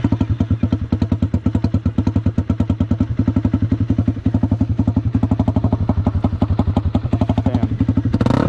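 A motorcycle fitted with a $60 aftermarket exhaust bought on Amazon rumbles loudly and close up with a rapid, choppy, pulsing exhaust note, holding a steady loping idle and rising briefly at the end.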